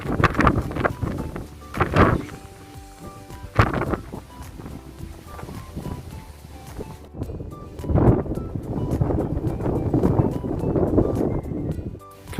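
Strong wind sweeps across the grounds of Kenilworth Castle, buffeting the microphone in uneven rumbling gusts that rise and fall near and loud, with a soft background hiss in the lulls.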